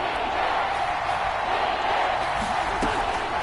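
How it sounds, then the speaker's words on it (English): Stadium football crowd roars steadily, a dense far-off wall of cheering and noise building ahead of a big third down, with a faint shout rising briefly near the end. "the crowd getting into it as we come up on a big 3rd down"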